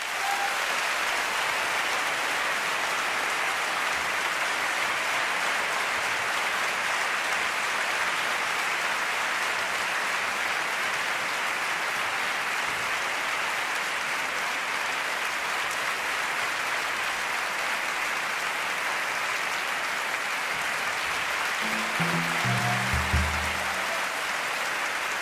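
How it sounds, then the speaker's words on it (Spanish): A theatre audience at a jazz concert gives sustained, even applause that holds at a constant level for over twenty seconds. A voice comes in near the end. "pido el mayor de los aplausos de esta noche"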